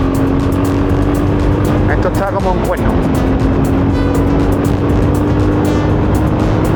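A VOGE 300 trail motorcycle runs on a dusty dirt track with a loud, steady engine drone and wind buffeting throughout, while a rider speaks over the noise.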